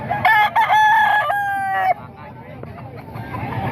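A seven-month-old sweater gamefowl rooster with a street comb, offered for sale at a market, crows loudly and close for about two seconds, then gives way to a murmur of background noise.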